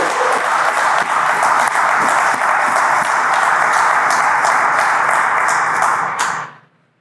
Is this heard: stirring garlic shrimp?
no